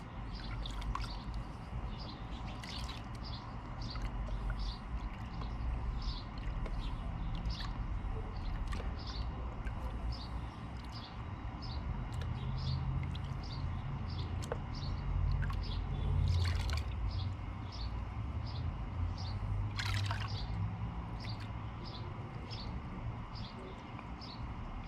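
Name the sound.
gold panning in water, one-handed pan technique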